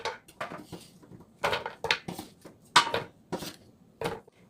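Thin-sliced potatoes for a Gangwon-style stir-fry drop and clatter into a frying pan in a series of separate knocks and scrapes, close and fairly quiet, with brief gaps and no speech.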